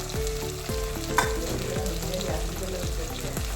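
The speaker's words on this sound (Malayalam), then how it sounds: "പിന്നെ ആവശ്യത്തിന് ഉപ്പും ചേർത്തിട്ട് നന്നായിട്ട് വഴറ്റാം" Squid roast masala with salt sautéing in a pan, a steady loud sizzle with repeated scraping stirs of the spatula at a regular rhythm, close and without talk.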